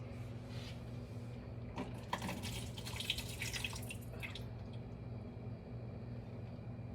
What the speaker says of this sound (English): I'm going to drain this water off of our figs.